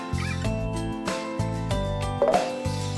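A cat meowing in a children's alphabet song, short cries over a bouncy repeating musical backing, fairly loud and with no talking.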